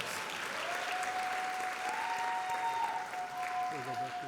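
Sustained audience applause fills a high school graduation ceremony, a steady dense wash of clapping with a few cheers, somewhat distant and reverberant, while a faint high tone hums through the hall.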